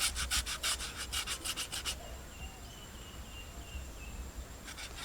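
Skin scraped lightly off a vegetable for bajji: a quick run of rhythmic rasping strokes, close and fairly loud, then a pause with faint background hum before a few more scrapes at the end.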